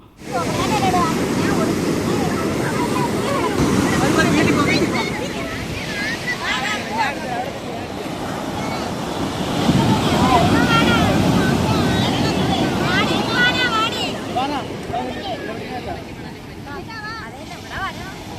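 Sea waves wash onto a beach in a steady, wind-buffeted roar that swells twice, with faint voices in the background.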